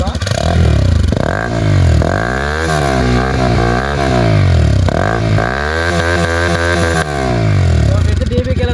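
A Bajaj Pulsar NS200 motorcycle fitted with a dB killer in its exhaust revs hard and loud up close, rising and falling in repeated throttle sweeps.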